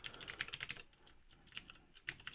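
Fast typing on a mechanical computer keyboard, close and crisp, with bursts of sharp clacking keys separated by brief pauses, no speech.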